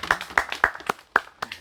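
A few people clap in a small indoor gathering at an agricultural lecture, with sparse, uneven claps spaced about a quarter second apart that break off after under two seconds.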